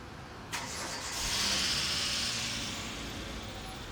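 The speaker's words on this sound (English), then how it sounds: "So let's start the engine" A car engine cranks with a sharp click, then catches and settles into a steady, loud idle with a tapping sound that continues to the end.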